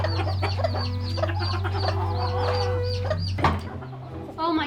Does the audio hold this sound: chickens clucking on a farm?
yes